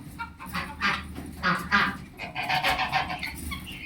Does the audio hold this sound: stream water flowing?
no